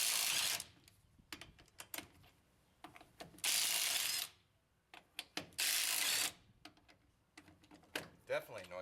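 Milwaukee power tool breaking loose the rear brake bolts on a 2004 Chevy Silverado, with two long loud ratcheting impact bursts separated by shorter clicks and clatter, close up.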